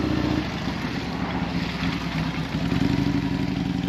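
Motorcycles, including old Harley dirtster-style bikes, running at the Hooligan 100 event, a loud steady rumble of engines idling and moving nearby with no break.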